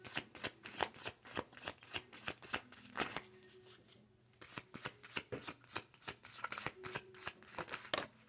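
Tarot cards shuffled by hand in a steady run of crisp riffling snaps and slides, close and fairly quiet, with a brief lull midway before the shuffling picks up again; a faint low hum sits underneath.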